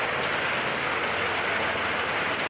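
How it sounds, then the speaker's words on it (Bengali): Heavy rain pours down beside a national highway, a thick constant roar of drops close by that cuts off abruptly at the end, no voices heard. "যাওয়ার পথে দেখলাম খুব জোরে আবার বৃষ্টি পড়ছে"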